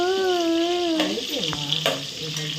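Food sizzles in a pan with a steady bright hiss and light stirring clatter, while a sustained tonal whine sweeps down in pitch over the first second and fades; no words are spoken.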